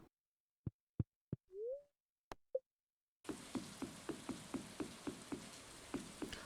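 Rain falls in the farming video game Stardew Valley: a steady, dense hiss that starts abruptly after a few isolated clicks and a short tone, with soft rhythmic pulses repeating underneath until the end.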